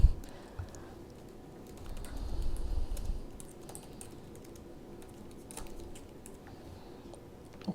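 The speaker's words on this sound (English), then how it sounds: "And I can begin typing." Soft, rapid keyboard typing close by, light clicking keystrokes running on with a brief denser burst, no talking.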